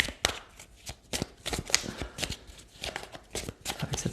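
Tarot cards being shuffled by hand, a quick run of crisp riffling and slapping bursts repeating steadily at close range, with no talking over it.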